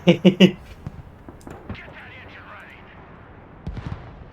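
Anti-aircraft guns firing in the war game Broken Arrow: three loud bursts up front, then a quieter battle bed of scattered distant shots, with a voice talking over it.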